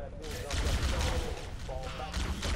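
Dense, rapid gunfire from the Halo video game, a near-continuous rattle of shots under loud excited talking.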